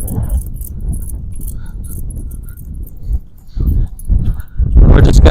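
A dog named Canelo whimpers and gives short yips during a leashed walk, with jangling keys, footsteps and a brief stretch of people talking, ending in a louder burst of rustling.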